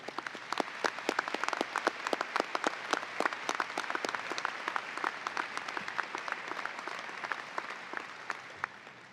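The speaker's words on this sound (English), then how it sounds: "Let's give all our award recipients once again another round of applause." A medical school commencement audience claps in a scattered, crisp round of applause, individual claps distinct and fairly moderate in level, continuing steadily for several seconds without speech.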